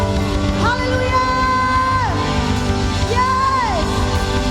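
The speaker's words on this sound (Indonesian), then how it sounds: "Yang percaya Dia baik, teman, beri tepuk tangan yang terbaik bagi Dia" A church congregation at a Sunday worship service erupts in cheering, whoops and shouts, with rising and falling yelled calls over a loud, sustained crowd roar.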